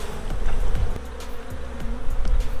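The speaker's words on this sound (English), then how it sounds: "Now next is going to be shaking all the bees off of these." Steady insect buzzing from a mass of honey bees being shaken off hive frames, dense and close, with soft thumps and knocks recurring throughout.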